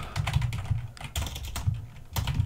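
Typing on a computer keyboard while writing code: a steady stream of close, clattering keystrokes with brief pauses between bursts, and no voice.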